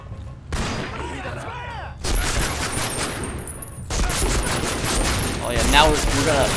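A Type 99 gun fires in the World War II shooter game Medal of Honor: Rising Sun during an attack on an Imperial Japanese carrier, with loud sustained bursts of rapid gunfire broken by short gaps and backed by booming battle noise.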